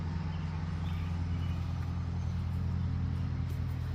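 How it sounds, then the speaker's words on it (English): Cars drive down a residential street as a continuous low, steady traffic rumble, with no single vehicle standing out. "Just the cars going down my street"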